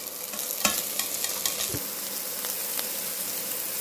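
Long-cut cabbage strips frying in a hot pan, a steady sizzle with a few sharp scrapes and knocks of a spoon against the pan early on, close and continuous, no voices.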